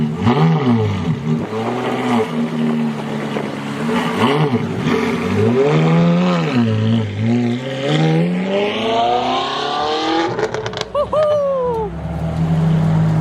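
A Ferrari F430 at a classic car meet roars close by, its engine rising and falling through loud revs with wavering pitch sweeps and a sharp crackle near the end, and excited voices are heard over it.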